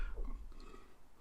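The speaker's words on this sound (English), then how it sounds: "Sorry, sulfur burps." A single quiet burp, short and low, heard close up on its own during a battery and inverter upgrade job.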